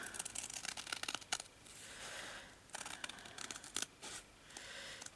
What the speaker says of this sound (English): Keep your scissors to the outside only, just cut along where that is.